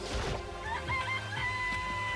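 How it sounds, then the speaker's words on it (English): A live chicken in a coop clucks and crows in short, nasal calls, close and fairly clear, with a few brief bursts over a low background hum. "It's a chicken. It's really alive, there's no mistake."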